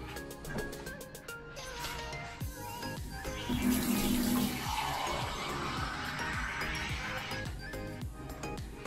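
Tap water runs steadily into a container in a kitchen while making asam pedas paste, a continuous splashing flow with light clinks of utensils, fairly quiet and close.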